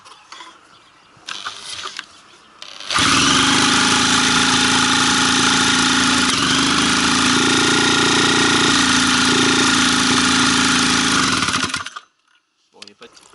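Iseki engine start test: after a few seconds of quiet handling noise, the engine catches and runs loud and close with a rough, clattering idle for about nine seconds before cutting out abruptly.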